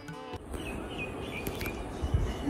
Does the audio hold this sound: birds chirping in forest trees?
yes